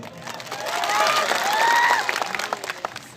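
Loud applause from a crowd at an election rally, dense continuous clapping that swells in the middle and thins toward the end, with some cheering and voices mixed in.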